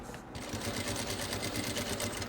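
Sewing machine stitching a quilt block, running steadily with a brief backstitch at the end of the seam, a close, continuous mechanical whir with rapid needle rhythm and no talking.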